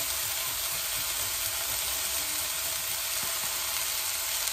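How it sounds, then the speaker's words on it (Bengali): Ginger and garlic sizzle in a pan of plenty of hot oil while cooking a potato, pea and broccoli dish, a steady close hiss with no talking. "এর মধ্যে দিয়ে দেবো একটু আদা রসুন, হাফ ইঞ্চি মতন আমি আদা দিয়ে দেবো।"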